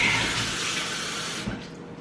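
Tap water runs steadily into a kitchen sink to rinse produce, a close, even splashing flow that softens slightly near the end.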